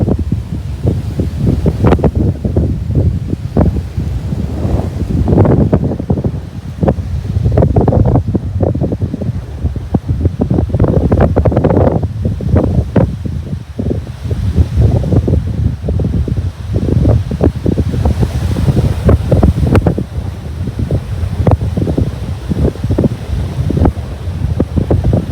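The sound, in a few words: strong wind blowing around a DJI Mavic Air 2 drone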